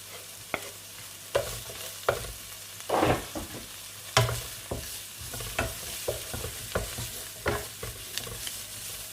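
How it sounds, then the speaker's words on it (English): Ham warming with softened onions in a frying pan sizzles quietly under repeated stirring scrapes and light clicks of a utensil, in a fairly regular rhythm. "so we're going to add our ham"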